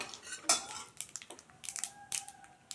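A utensil scrapes and clinks against a pan while mango pickle masala with Kashmiri chilli powder is stirred over low heat, giving quick irregular knocks and scrapes with one sharp clatter early on.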